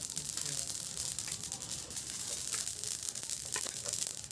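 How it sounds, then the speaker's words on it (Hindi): Sesame seeds roasting in a pan over a fire at home, a fine continuous crackling sizzle with scattered sharper pops, fairly close, while someone talks over it. "मैं तिल को अच्छे से भूनेंगे, अच्छे से उलाएंगे दोस्तों"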